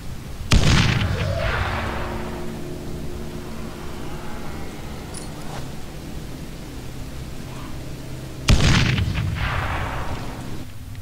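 Two heavy grenade blasts from the game Dead Island: Riptide, each a loud close boom with a long rumbling tail, several seconds apart.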